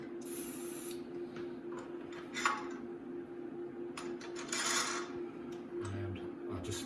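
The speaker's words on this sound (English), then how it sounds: "I'm just going to give it a nice squirt of silicone spray, just to help that ease it on." Silicone spray hisses in short squirts onto a rear upper control arm outer bushing for a BMW E46, close and fairly quiet, with light handling clicks and a steady background hum.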